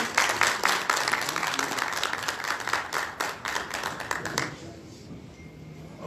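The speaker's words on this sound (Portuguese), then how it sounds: "Seja bem-vindo, nossas palmas também." A seated audience claps to welcome a guest at a parliamentary launch event, a dense burst of applause lasting several seconds before it stops abruptly and leaves quiet room tone.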